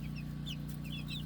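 Chickens and roosters on an off-grid homestead give short, soft clucks and chirps over a low steady hum, brief and close.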